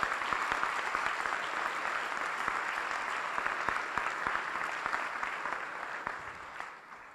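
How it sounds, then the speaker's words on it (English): At an awards dinner honoring young entrepreneurs, the audience breaks into steady, dense applause, many hands clapping together in a room with distinct individual claps popping through, tapering slightly toward the end. "let's give all these young entrepreneurs a round of applause"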